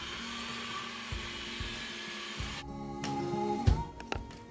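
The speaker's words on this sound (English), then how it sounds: "so I'll proceed to blend the onions first" A blender purees cooked onions for a light soup, a steady whirring motor hum running throughout at moderate level, with a few clunks and knocks toward the end.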